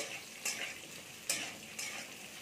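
Sliced potatoes frying in a pan while being stirred, a soft continuous sizzle punctuated by three brisk scraping strokes of a utensil, close and fairly quiet.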